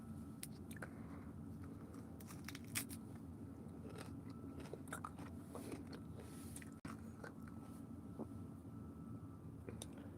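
Someone eating cauliflower up close, with repeated crunchy bites and wet chewing over the whole stretch and no talking.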